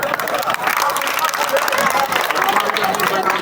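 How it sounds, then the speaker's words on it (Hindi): An audience at a Bhojpuri stage drama cast introduction applauds, dense continuous clapping from a crowd with a murmur of voices underneath, steady and fairly loud throughout. "कृपया आप लोग ताली बजाते रहें।"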